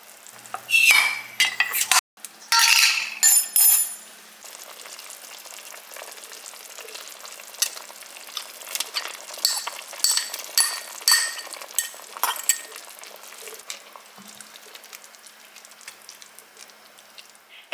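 Homemade-broth vegetable soup made from dehydrated vegetables heats toward a simmer, with soft bubbling and faint sizzle under clinks and scrapes of a utensil against the pot, a few louder knocks early on, and no talk.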